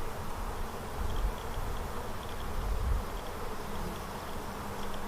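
Honeybees from an open hive during a frame-by-frame inspection, a dense continuous buzz close around, with steady drone and a few faint higher whines, no voices.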